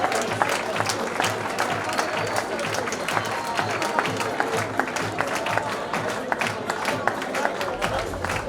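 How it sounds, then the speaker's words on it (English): Sustained audience applause at an awards ceremony, a dense, even wash of many hands clapping with scattered sharper claps standing out throughout. "You may applaud."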